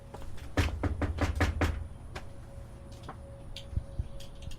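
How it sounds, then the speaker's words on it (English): Several quick knocks on a house door come in a tight burst near the start, followed by a few fainter, scattered taps and clicks in an otherwise quiet setting. "so again we knock on her door"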